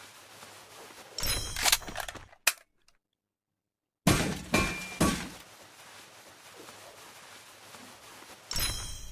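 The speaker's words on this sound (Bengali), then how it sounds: "স্নাইপার মনে হয়।" Sniper gunfire from the Free Fire game, several sharp loud cracks with ringing tails, one burst near the start and more after a short silent gap, ending with another shot.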